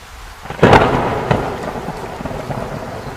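Heavy rain pours with a sharp crack of thunder followed by a rolling rumble that fades slowly under the steady downpour.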